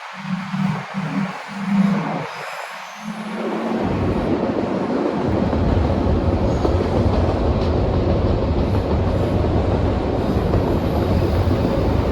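A train rolls past on railway tracks near the Walkway Over the Hudson bridge in Poughkeepsie, New York, rising from a brief quiet into a loud, steady rumble with clickety-clack that holds close by to the end, with no talk over it.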